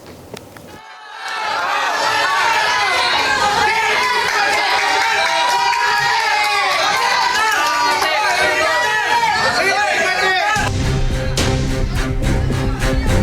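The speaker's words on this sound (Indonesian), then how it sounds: "Sorak-sorai keluarga korban pembunuhan satu keluarga tidak terbendung usai Hakim Pengadilan Negeri Indramayu menjatuhkan hukuman mati pada terdakwa Ririn Rifanto" Victims' family members cheer and shout after a death sentence verdict in the Indramayu District Court, a loud, dense crowd roar that swells quickly and holds steady for several seconds before cutting off.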